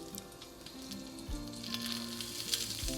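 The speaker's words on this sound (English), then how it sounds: "You hear that sizzle?" Sausage and rice cake skewers sizzling in a hot grill pan, a steady close crackle and hiss that runs unbroken throughout with no talking.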